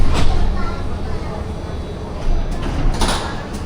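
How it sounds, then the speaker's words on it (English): A Milan metro train decelerates into Cologno Sud station and its doors slide open, a loud steady rumble and rush of motion with brief bursts of door noise toward the end. "It slows the velocity and then the door is gonna be open."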